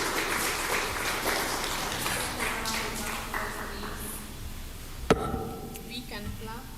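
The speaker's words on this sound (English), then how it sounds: "We can clap kindly. In Africa, we really clap. Can we please clap?" Applause from a symposium audience at a university research hub opening, steady and moderate with voices talking over it, a single sharp knock near the end.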